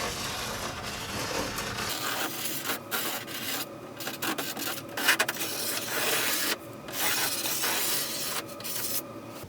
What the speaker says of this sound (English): Just grab me my Sharpie and just run along the track.